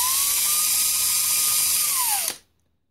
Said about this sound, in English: we're going to take the drill and drill out what we can of the